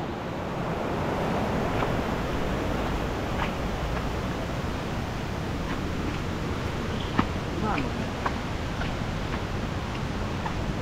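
Swollen river after heavy rains in El Salvador, steady broadband rushing water with wind buffeting the microphone throughout, a few faint voices and small knocks on top.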